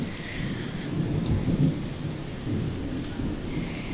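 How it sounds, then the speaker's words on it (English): Thunder rolling from a lightning bolt during a night storm, a continuous low rumble mixed with steady rain that swells and stays loud throughout. "Whoa, that was a bolt, man. That was a bolt."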